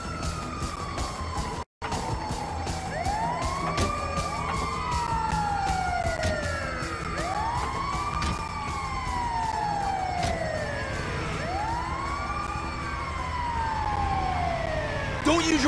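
In Grand Theft Auto V, a wailing ambulance siren sweeps up and down repeatedly over a steady engine drone, loud and close, with a short cut in the sound early on.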